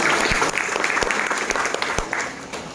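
A crowd applauds at a religious sermon gathering in Boalemo, with dense clapping that holds steady for a few seconds and then thins slightly toward the end.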